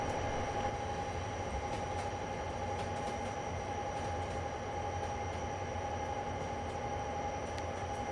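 An enormous simulated train on the Mt Shasta Railway powers up with a steady, loud mechanical drone and a constant whine, rumbling continuously without pause as it begins to move.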